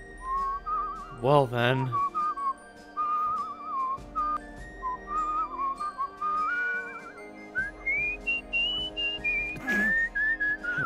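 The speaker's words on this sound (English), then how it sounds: "What a tuneless whistle." Tuneless whistling from a character in the video game Where the Water Tastes Like Wine, a wandering melody of thin sustained tones with brief breaks, playing near and clear under a man's short spoken remark.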